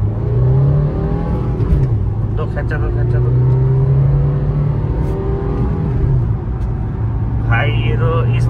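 A Honda WR-V 1.5 and a Suzuki S-Cross 1.3 accelerate side by side in a drag race rematch, engines droning and rising in pitch from inside a car while a person talks over them.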